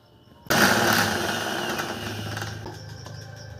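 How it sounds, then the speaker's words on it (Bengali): A kitchen mixer grinder blends grated carrot, starting abruptly with a loud whirring motor roar that holds steady and eases slightly as it runs, with no voices. "এবার এটাকে মিক্সিতে ভালো করে ব্লেন্ড করে নেব"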